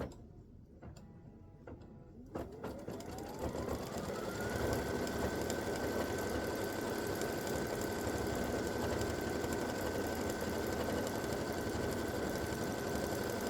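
A quilting machine stitching an edge-to-edge double loop design starts after a few faint ticks, then settles into a steady, close, rapid mechanical whir with a sustained tone and ticking texture.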